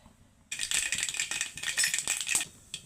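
Mustard seeds dropped into hot oil for a shallot rasam, a sudden burst of close crackling and popping that starts after a quiet moment and rattles on densely before thinning to a final pop.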